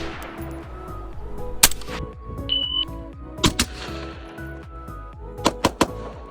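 Suppressed gunshots from a Gemtech Trek II on an 11.5 inch 5.56 rifle, several sharp muffled cracks spaced unevenly, some in quick pairs, over a busy outdoor background with a brief beep.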